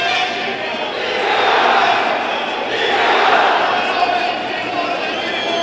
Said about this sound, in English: And the crowd really eating it up.